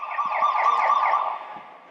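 The end-of-period buzzer at a high school hockey game, Massena against Rome, sounds as one sustained, wavering electronic horn tone, fairly loud and echoing through the rink before tailing off.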